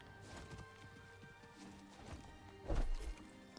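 Hooves clip-clop in a quick series, with a heavier thudding burst near the end over a steady game-like background hum, from the video game Star Wars Jedi: Survivor on the planet Koboh.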